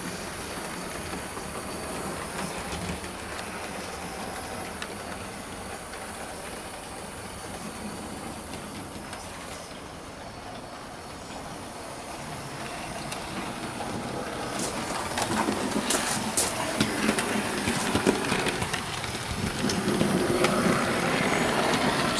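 A Bachmann Southern Class E4 model locomotive pulls a train around a layout, giving a steady close rolling hiss and rattle of wheels on track that grows a little louder and busier toward the end.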